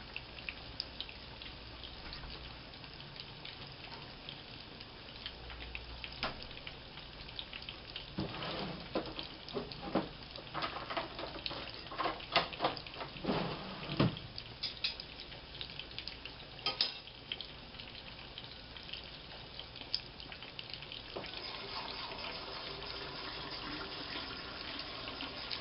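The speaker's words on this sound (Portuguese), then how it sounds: "Vamos esperar fritar." Fake chicken empanadas frying in hot oil, a steady close bubbling hiss that runs the whole time with a few brief clatters in the middle.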